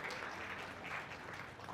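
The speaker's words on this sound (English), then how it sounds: "round of applause" Applause from the audience at a tech talk, fairly faint and distant, a soft continuous patter of many hands clapping with no talk over it.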